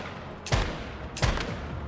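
Two sharp gunshot bursts from enemies in a video game, spaced about three-quarters of a second apart, loud against a steady background hum with no talking.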